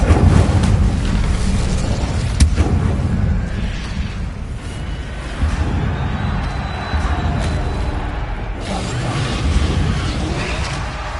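The Incendio fire spell cast in Hogwarts Legacy, a loud roaring whoosh of flame with crackling bursts that sustains for several seconds amid dense combat noise and booms, fairly close and continuous.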